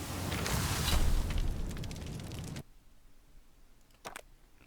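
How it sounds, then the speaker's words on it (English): A burst of booming explosions from a video game card battle, loud and dense for about two and a half seconds before cutting off, then a single short pop after a quiet gap. "That is several explosions"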